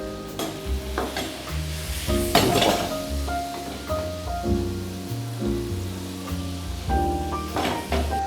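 Finely chopped onions soften in melted butter in a pan, a steady close sizzle with stirring clatter and faint background music.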